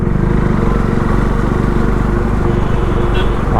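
A KTM Duke 390 BS4 motorcycle engine while riding on a road, a steady loud rumbling drone with constant throttle throughout, close to the rider.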